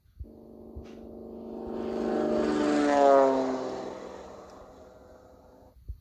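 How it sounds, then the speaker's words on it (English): A propeller-driven biplane drones past overhead, its buzzing engine swelling louder toward a peak and then fading away as it recedes. The flyby is smooth and continuous, heard alone with no other sounds. "Biplane."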